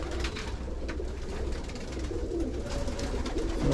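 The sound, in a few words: pigeons cooing in a loft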